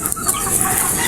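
A Bulik-breed rooster, a tested broodcock, clucks and calls in a short, close burst over steady background noise.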